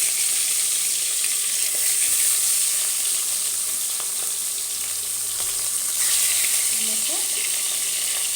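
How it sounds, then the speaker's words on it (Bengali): Fish heads, hilsa (ilish) heads, frying in hot oil in a kadai, giving a steady loud sizzle and hiss throughout with a few faint stirring clinks and no talk. "এবার আস্তে আস্তে মাছের মাথাগুলো তেলের মধ্যে ছেড়ে দিচ্ছি"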